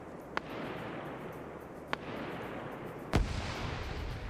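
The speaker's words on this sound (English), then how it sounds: "Grenade goes up. It's going to be well short." A grenade detonates during a World War II-era multiplayer battle match, heard as sharp cracks amid steady distant gunfire and battle noise, with one louder, heavier blast near the end.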